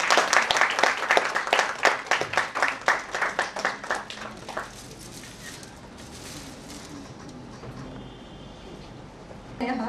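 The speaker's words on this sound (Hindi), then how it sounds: "तालियां रुकनी नहीं चाहिए लोगों को।" Applause continues at a social organisation gathering, with rhythmic group clapping that starts strong and gradually thins out, giving way to quieter room ambience with a brief faint sound at the very end.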